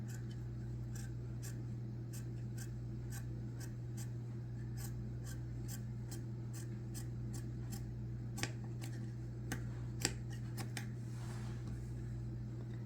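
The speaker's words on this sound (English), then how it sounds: "It is not easy to cut cloth" Scissors snipping through cloth to cut squares, a steady series of faint, crisp cuts spaced about half a second apart over a low fan hum.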